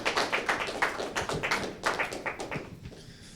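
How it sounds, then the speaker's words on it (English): A small audience at a graduation ceremony applauds a speaker, giving a brisk patter of claps from a modest group that starts strong and thins out and fades within a few seconds. "let's give a round of applause to Jeff Conway as he brings some remarks for our graduates"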